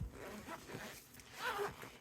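A zipper on a Crafter's Companion craft kit binder slides open in a soft, close rasping pull lasting about two seconds, fairly quiet with no talking.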